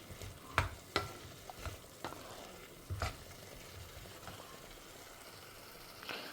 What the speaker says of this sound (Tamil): ஸோ இப்போ காய் கொஞ்சம் வதங்கணும்.